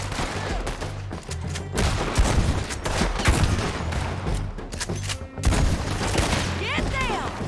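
Gunfire in the video game Red Dead Redemption 2 during a gang shootout, dense overlapping rifle and pistol shots rattling steadily under shouted voices and tense music.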